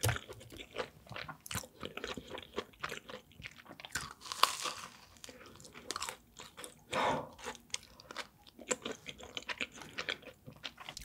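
Close-up crunching and biting into a cream puff cheese ball served as a pizza side, filled with vanilla-bean custard cream; crisp bites and wet chewing repeat irregularly and loudly with no talking.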